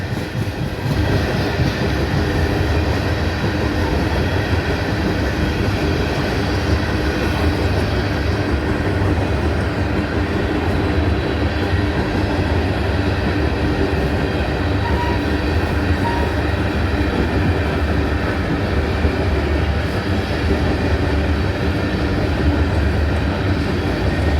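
Westbound freight train climbing a hill between Greenwood and Atlanta, a loud, steady rumble and grinding of wheels and wagons that holds unbroken throughout, with no voices.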